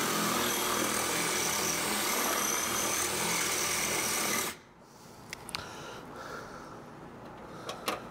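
A power drill bores out a hole to 9 mm for a rivet nut on a vintage Datsun 521 pickup, whirring loudly and steadily for about four seconds before cutting off, followed by a few faint clicks and taps.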